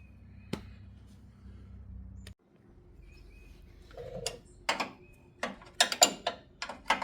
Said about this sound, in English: So I am able to put this on here and then just ratchet it out.